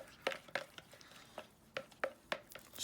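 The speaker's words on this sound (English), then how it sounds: "I couldn't find the spatulas, I don't know where the box has gone, so I had to use a stick. I'll give that a good stir." Fibreglass resin being stirred in a bucket with a wooden stick, giving a series of soft knocks and scrapes spaced out at an uneven pace, fairly quiet and close, with no voices.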